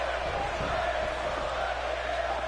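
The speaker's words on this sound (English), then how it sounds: "The crowd cheering." Virtual arena crowd in WWE 2K20 roaring steadily through a Royal Rumble match, a dense continuous wall of cheering with faint commentary-like voices underneath.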